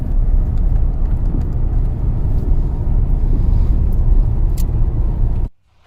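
A Maruti Brezza petrol car accelerates on a smooth highway in Rajasthan, its steady low engine and road rumble heard from inside the cabin with wind noise, before cutting off abruptly near the end.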